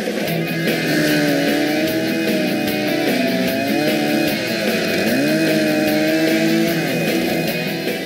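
A chainsaw engine runs close and loud with a continuous buzzing drone, its pitch rising and falling as the throttle is worked.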